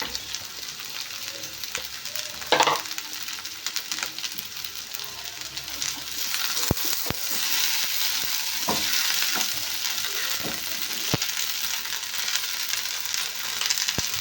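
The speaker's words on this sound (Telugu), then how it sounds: "కొంచెం రంగు మారిన తర్వాత బెండకాయలు అన్నీ కూడా వేసేసుకుందాం" Okra pieces fry in hot oil for a lady finger masala curry, a steady close sizzle with intermittent stirring knocks against the pan, growing slightly louder partway through, with no one talking.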